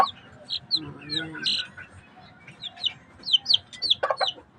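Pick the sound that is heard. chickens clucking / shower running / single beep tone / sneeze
chickens clucking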